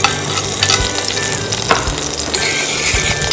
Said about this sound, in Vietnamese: Mình cho hành tím vào và đảo đều để cho hành tím hơi vàng